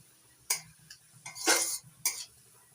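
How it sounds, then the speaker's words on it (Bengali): A spoon stirs grated coconut into jaggery in a bowl for a steamed semolina pitha filling, giving a few short, scraping strokes in uneven bursts, close and fairly quiet. "নারকেল কোড়া গুড়ের সঙ্গে ভালো করে মিশিয়ে নিয়েছি"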